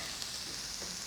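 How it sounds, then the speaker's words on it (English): Mince being stir fried in a pan, a brief soft sizzle heard faintly and up close with no talking. "While we are stir frying"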